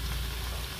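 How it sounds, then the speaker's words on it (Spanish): Chorizo frying in a pan for antojitos: a steady, dense crackling sizzle with popping fat, close and fairly loud throughout, no talking. "ya nuestro chorizo ya está friéndose, miren, ya truena donde se está friendo"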